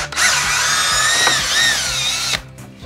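Power drill driving screws into wooden battens beneath a camper van roof during a renovation, one loud continuous whine with slight pitch wavering for over two seconds, then stopping abruptly, close and alone.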